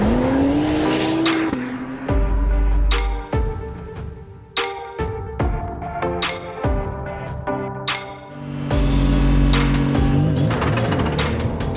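An Acura GT3 hybrid race car screams past at race speed, its engine rising and falling through rapid gear changes, loud and close, with sharp shift cuts and a brief tire squeal.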